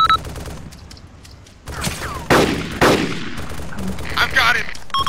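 Enemy machine gun fire in Arma 2, sharp loud bursts of rapid shots cracking in several clusters after a quieter opening, with intense volleys near the middle and end.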